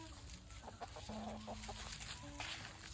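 Hens and a small young rooster cluck around a backyard garden chicken coop in winter, a steady run of short, close clucks and murmurs at moderate level with no talking.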